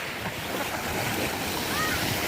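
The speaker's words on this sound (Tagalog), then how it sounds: "Ayan, dito ngayon sa dagat, oh, baybayin. Medyo malabo yung, ano, maalon kasi." Rough sea waves wash steadily onto a beach, a continuous loud roar of surf with wind buffeting the microphone throughout.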